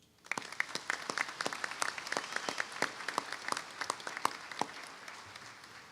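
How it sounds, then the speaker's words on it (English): Scattered applause from a graduation ceremony audience: distinct individual claps in an irregular patter, building quickly, staying moderate, then thinning and fading out near the end. "please join me in a round of applause for all the mothers both here and afar"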